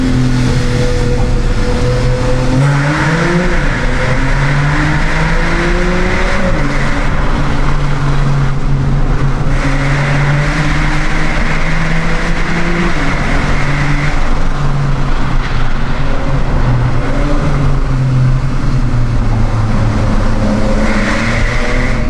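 A Porsche 911 Carrera S with PDK gearbox and straight Fab Speed pipes in place of the secondary mufflers revs and pulls steadily, its loud engine note rising and dipping through repeated gear changes, close and continuous with no talk.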